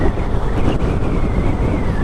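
Strong wind buffets the microphone on an outdoor motorcycle ride in Tagaytay with a Harley-Davidson Fat Boy, making a loud, constant low roar and rumble for two seconds. No speech is heard.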